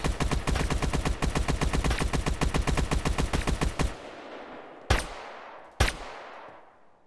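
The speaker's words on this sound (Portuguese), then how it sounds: "mandei um tiro no Yuri" Rapid automatic gunfire rattles steadily for about four seconds, then stops, followed by two separate sharp single shots with echoing decay.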